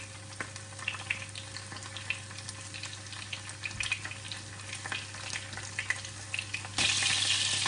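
Whitebait, also called parrochitas or sprats, frying in an uncrowded pan of hot oil. There is a steady dense sizzle with scattered popping crackles, which gets louder and brighter near the end.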